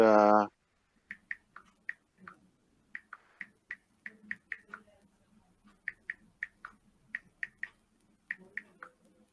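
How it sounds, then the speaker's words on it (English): Computer keyboard keys clicking during a live stream, a quiet irregular patter of sharp taps in quick bursts after a brief voice at the start. "there's a way to mute that keyboard"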